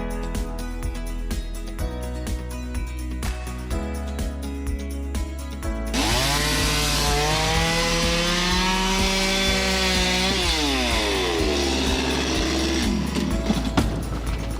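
A gasoline chainsaw engine revs and whines as it cuts through timber on a house build, its pitch rising and falling, with music playing throughout.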